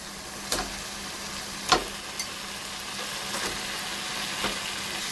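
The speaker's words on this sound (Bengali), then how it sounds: "মশলাটা আমার কষিয়ে এসছে আমি এবারে চিকেনগুলো দিয়ে দিচ্ছি" Chicken pieces go into a pan of spice paste cooked down for Bengali chicken malai curry, a quiet steady frying hiss punctuated by a few spoon knocks against the pan, without talk.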